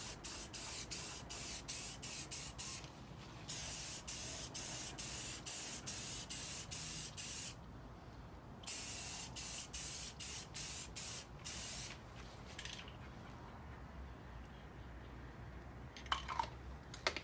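Spray paint hisses onto a primed rear bumper of a Honda DC2 in short, repeated bursts, with a longer continuous spray and a few pauses, close and fairly quiet with no talking.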